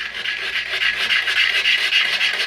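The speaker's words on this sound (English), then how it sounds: "you need to get the ring wet also, and then you just start scrubbing" A brush scrubs hard water stains from a wet toilet bowl ring, a steady, close, rasping scrape that repeats rhythmically without pause.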